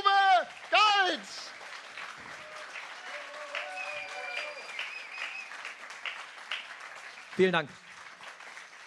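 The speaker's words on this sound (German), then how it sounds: "Lass uns da bitte einen Riesenapplaus für Uwe." Audience applause for a science slam speaker swells from about one second and carries on as a steady, moderately loud clatter. A host's voice speaks over the start and briefly again near the end.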